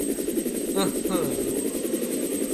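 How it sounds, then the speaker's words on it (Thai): Rescue helicopter arriving in a Resident Evil game, its rotor hum steady beneath someone talking over the game audio, with a few brief effect sounds in the middle. "อ่าเฮลิคอปเตอร์มาช่วยแล้วครับ"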